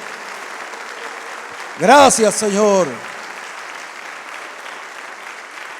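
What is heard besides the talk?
congregation applause in church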